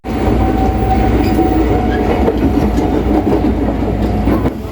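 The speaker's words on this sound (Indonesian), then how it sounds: "Pintu KRL sudah ditutup. Sekarang saatnya kita berangkat." A KRL commuter train departs a station with a loud, continuous rumble of wheels and carriage noise close by, holding steady throughout with faint rattles on top.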